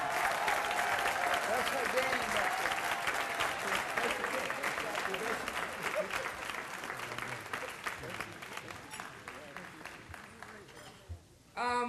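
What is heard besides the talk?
audience applause for Miss Linda Martley Jordan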